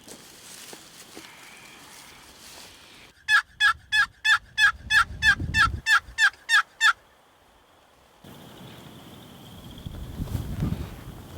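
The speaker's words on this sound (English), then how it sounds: "And other birds are still gobbling down the bottom here," Wild turkeys gobbling outdoors on a spring hunt in Iowa: a quiet windy stretch, then a loud, rapid run of about a dozen sharp calls, followed by more distant gobbling and wind noise.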